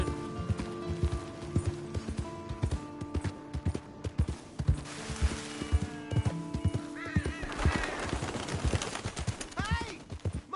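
Horse in a Red Dead Redemption 2 game scene galloping with steady clip-clop hoofbeats, then whinnying and neighing loudly near the end amid faint background game sounds.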